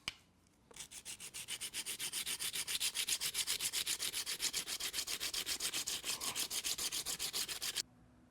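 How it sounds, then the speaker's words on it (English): Broadhead blade sharpened on a coarse stone, a steady rhythmic rasp of quick back-and-forth strokes running for about seven seconds, close and fairly loud, with no talk. "just off of that fairly coarse stone there"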